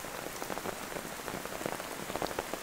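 Steady rain patters on surfaces outdoors near a river in the canyons, a dense, even hiss of drops with no voices.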